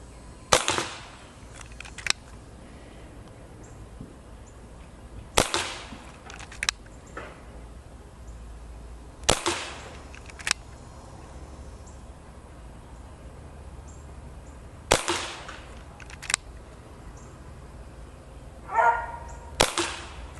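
A silver Dan Wesson 715 pellet revolver with a 2.5-inch barrel fires at a target 10 yards away: about five sharp, dry cracks spaced several seconds apart, each trailed by a fainter tick, with quiet between shots.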